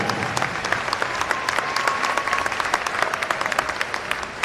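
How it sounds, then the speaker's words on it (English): Steady applause from a crowd in a gymnasium at a high school basketball game, honoring a player between events; dense clapping continues evenly throughout with a faint background murmur. "Nice round of applause for Riker Harrington."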